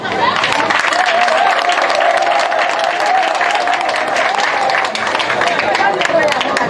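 A crowd at an evening political gathering in Kara applauds, loud sustained clapping and cheering filling the space for several seconds, with a murmur of voices mixed in.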